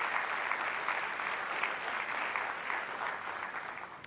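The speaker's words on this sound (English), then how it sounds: "That too requires a round of applause because that was remarkable." Steady round of applause from a graduation audience at the Virgin Islands School of Technical Studies, a dense even wash of many hands clapping, moderately distant, continuing for the whole stretch without talk.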